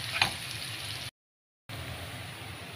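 Radish and onion tempering with dal, coconut, garlic, dried red chillies and salt fries in a pan with a steady close sizzle, broken by a short silent gap before the frying resumes.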